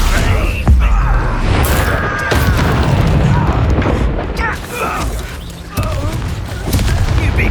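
The Expelliarmus spell in Hogwarts Legacy fires in a dueling fight, with a string of heavy booms, crashes and crackling magical impacts that rise and fall in loud bursts.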